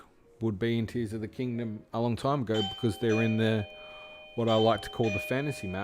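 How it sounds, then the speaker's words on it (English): A household doorbell chimes indoors during a live stream, its sustained ringing tones sounding midway through and lingering beneath a man's steady, continuous talking. "That's my doorbell."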